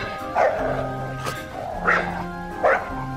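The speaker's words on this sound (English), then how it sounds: "the dog just kept barking" A dog barks three times at a steady pace, loud and close, with a low hum running underneath.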